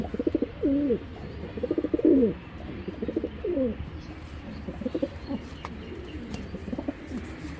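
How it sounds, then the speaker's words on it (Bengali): Pigeons, including a black shadel male, coo in repeated soft, throaty phrases nearby, several bouts in a row over a low steady background hum. "এখন একটা শ্যাডেল দেখাইতেছি ব্ল্যাক শ্যাডেল একটা নর এবং খুব সুন্দর এই কবুতরগুলো"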